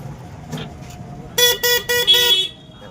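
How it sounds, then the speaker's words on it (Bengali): An e-rickshaw horn honks in four quick, loud blasts over a low rumble of crowded morning market traffic. "হর্ন মারলেও সরে না, হর্ন মারলেও সাইড দিতে মনই চায় না"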